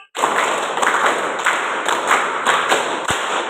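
A group of people claps in unison during an Indonesian classroom clapping exercise, a five-beat pattern played twice, each sharp clap close and loud in a steady rhythm.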